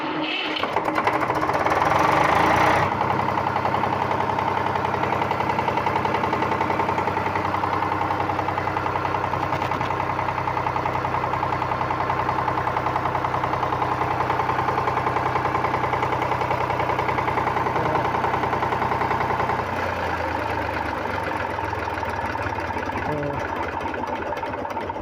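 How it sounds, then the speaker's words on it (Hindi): An Eicher genset engine with an oil leak starts with a burst, then runs steadily at a loud, even idle rhythm for the rest of the stretch. "अभी हमने इसके इंजन को स्टार्ट किया"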